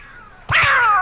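A cat in Kingdom Hearts Birth By Sleep Final Mix on PS4, in the Castle of Dreams, gives one loud, drawn-out meow that begins abruptly after a quiet moment.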